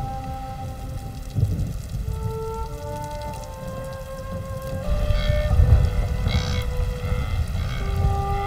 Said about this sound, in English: It is, after all, the rain that gives life to the plains